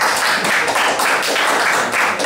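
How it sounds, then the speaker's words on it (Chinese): A classroom of students claps together, a dense, even patter of many hands that carries on steadily for the whole stretch without talk. "能给他掌声吗？他这颜色。"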